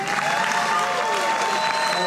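An audience at a colt starting clinic gives a dense burst of applause, steady and fairly loud, with some mixed voices and cheering tones running through it.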